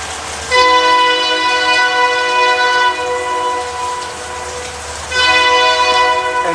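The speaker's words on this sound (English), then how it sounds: "it looked like an ethanol train." A Union Pacific ethanol freight train sounds a loud, sustained multi-tone horn near the tracks in the rain, blasting for about four seconds, pausing briefly, then sounding again, with rolling rail noise beneath.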